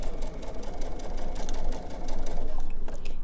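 A sewing machine stitches fabric for a protective face mask, making a fast, steady rattling hum that runs close and loud throughout with no talking.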